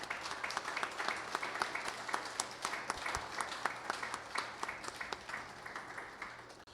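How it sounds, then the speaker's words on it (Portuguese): Faint applause from a church congregation during a Sunday evening sermon service, steady scattered clapping continuing for several seconds at a distance. "Vamos dar uma salva de palmas"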